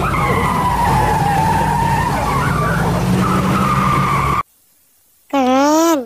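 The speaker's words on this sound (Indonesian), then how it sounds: "Wah, ini ada mobil balap lagi" A toy race car makes a loud skidding, engine-like whine that runs steadily for about four seconds, then stops; after a brief silence a short burst of rising and falling tonal sound follows.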